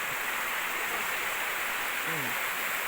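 Heavy flow of a mountain stream deep in forest near Nang Rin waterfall in the Phu Phan range, a continuous rushing hiss, close and steady, with a brief faint voice near the end.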